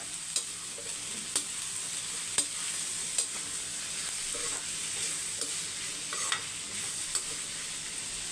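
Capsicum (bell pepper) stir-frying in a pan: a spatula taps and scrapes at a steady pace, about once a second, over a continuous low sizzle, close and with no talking.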